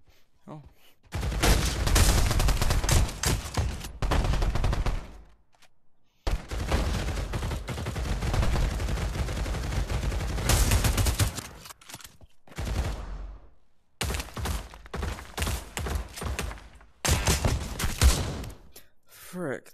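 Shotgun and other gunfire in the video game Pavlov: dense, loud bursts of repeated shots fill most of the clip. Short gaps of near silence break them up, and a voice is heard in places.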